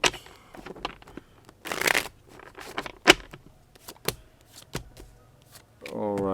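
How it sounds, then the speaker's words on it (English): Crisp, riffling bursts of tarot cards being shuffled, several quick runs with short pauses between them, close by, with faint background sound. "Let's get 2 more shuffles."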